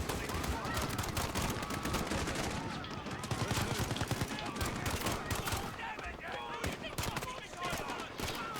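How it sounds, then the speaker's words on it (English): Dense gunfire in Modern Warfare 2: continuous rapid automatic bursts and overlapping shots with explosive cracks, loud and close throughout, with voices talking underneath. "There's been a detonation at Piccadilly Circus. Shots fired."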